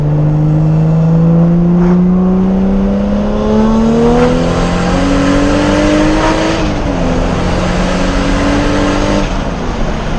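A single-turbo Toyota 2JZ engine of about 550hp in a Supra revs hard and loud, its pitch climbing steadily in several rising pulls against a constant rumble.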